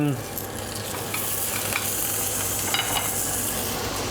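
Trimmed oxtail browning in a hot pan gives a loud, continuous close sizzle with light stirring scrapes now and then, steady throughout and with no voices.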